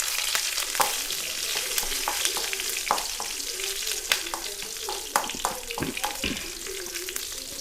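Curry leaves sizzle and crackle in hot oil for a batate batani gasi curry, a steady close frying hiss broken by frequent sharp spits and pops, with light stirring scrapes throughout and no talk.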